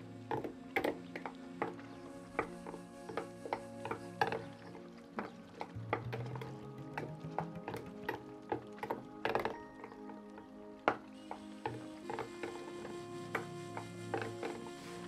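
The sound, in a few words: mixing dry pancake ingredients in a bowl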